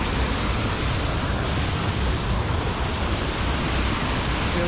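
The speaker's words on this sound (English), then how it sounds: "Wow, this crazy wind just coming and hit me." Strong gusting wind blasting a microphone near a Scottish waterfall that drops in three tiers, a loud unbroken roar of rumbling noise, close and alone without talk.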